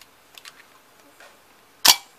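A few faint light clicks, then one loud, crisp snap of a camera mirror and shutter firing, with nothing else around it.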